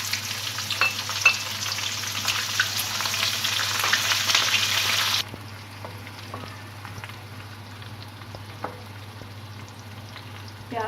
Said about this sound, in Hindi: प्याज ब्राउन हो रहे हैं